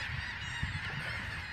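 Geese honk in a flock at sunrise on an island beach, a dense chorus of overlapping calls close by.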